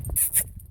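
A white dog with brown on its back whimpers in snow outdoors, giving two short, high, nasal whines close by, each lasting a fraction of a second, over a low rumble of background noise.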